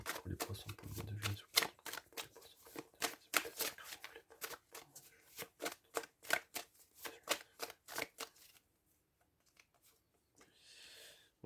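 Tarot cards shuffled by hand, a rapid run of crisp riffling flicks for about eight seconds, then near silence with a faint rustle, close and quiet.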